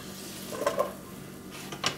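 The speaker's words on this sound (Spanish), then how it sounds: "Y esto lo vamos a poner acá en un sartén más grande. Yo agregué tantito aceite, tantito para sofreír." Oil sizzles softly in a large frying pan as potato patties for a tomato broth are sautéed, with a few scraping stirs and light utensil knocks against the pan.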